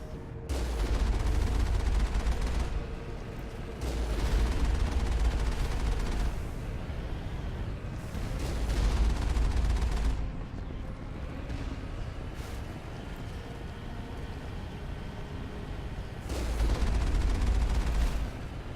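Gunfire in the video game Mass Effect, loud sustained bursts of rapid fire recurring in several long volleys, separated by calmer stretches.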